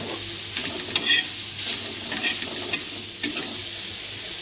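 Fried potatoes are reheated in a pan, giving a constant close sizzle broken by the scraping and clinking of stirring.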